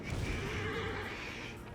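Horses neigh and whinny loudly in the Assassin's Creed Origins video game, a continuous close whinnying call lasting the whole moment with faint hoof clatter beneath.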